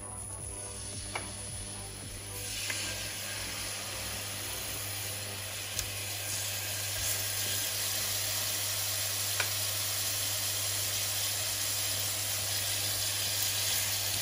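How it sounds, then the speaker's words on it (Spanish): Chicken fries in a pan with a few drops of oil, a steady close sizzle with faint occasional ticks over a low constant hum and no talking. "en la misma sartén y sin lavar ponemos un poquito de aceite, así como 2 o 3 gotitas, y le vamos a poner el pollo"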